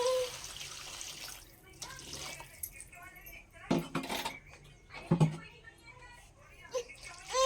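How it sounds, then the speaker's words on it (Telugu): Water splashes and pours into a metal pan, with clinks of utensils and a person talking nearby. "కొన్ని నీళ్ళు యాడ్ చేసుకుంటున్నాను."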